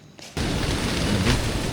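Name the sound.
strong wind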